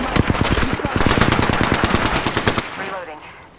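Rapid automatic gunfire in a naval combat video game, a fast steady burst of loud close shots for about two and a half seconds before cutting off into a fading tail.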